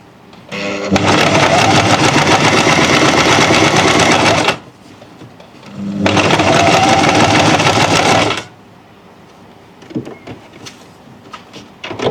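A sewing machine top-stitching around a finished neckline, running in two loud, steady bursts of about four and two and a half seconds with a short pause between, then quiet handling noises.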